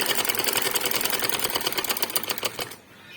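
Sewing machine stitching cloth for a girl's frock, a loud, close, fast rattling run that slows and stops near the end, with no talk over it.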